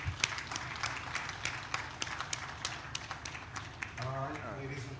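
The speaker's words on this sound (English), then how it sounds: "Please put your hands together. A round of applause." An audience at an African housing show claps in a steady patter, fairly faint, and a voice speaks near the end.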